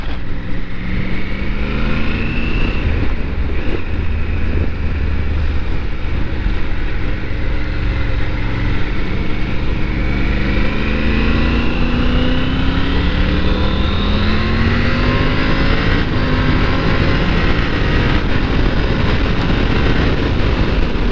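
Loud, steady wind buffeting on a Triumph Tiger 900 motorcycle ride, roaring broadband rush with the bike's engine tone rising and shifting underneath, continuous and close throughout.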